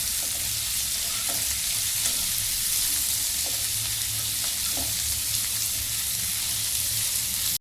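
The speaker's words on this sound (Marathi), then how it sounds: "कांदा छान परतून घ्यायचा" Onion sautéing in a pan, browning to a deep red, giving a loud, continuous close sizzle with faint scraping stirs now and then.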